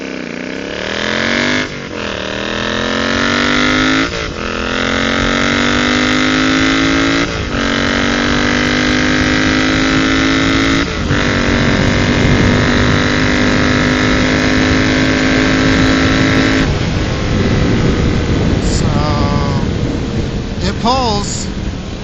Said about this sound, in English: I'm going to get on it here a little bit.